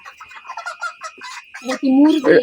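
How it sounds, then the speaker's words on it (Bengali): A broom-reared broiler chicken clucks close by in a series of short, rhythmic calls, ending in louder, drawn-out squawks as it is handled at a poultry farm. "এটা মুরগি"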